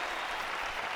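Arena crowd in the video game Jade Empire applauding, a steady wash of clapping heard briefly and faintly with no voices over it.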